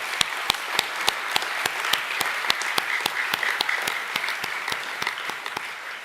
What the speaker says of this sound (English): Could we please give them another round of applause?